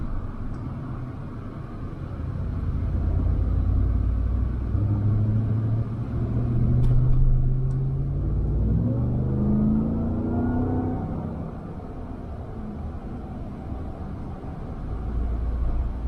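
A Ram TRX pickup truck driving, its engine a deep low rumble with road noise, rising in pitch as it accelerates through gears mid-way and then settling back to a steady cruise, heard from inside the cab.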